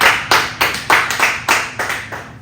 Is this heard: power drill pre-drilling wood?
no